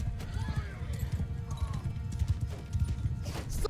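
Hoofbeats of cavalry horses galloping in a Mount & Blade II: Bannerlord battle, a dense continuous clatter of clip-clop with occasional neighs and whinnies, moderately loud, with a faint voice in the background.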